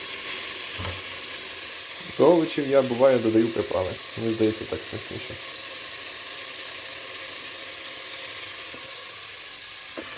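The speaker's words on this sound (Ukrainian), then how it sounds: "Смажимо на середньому вогні, помішуючи" Frozen vegetables sizzle and crackle in hot oil over medium heat throughout, a steady frying hiss beneath someone talking briefly in the middle.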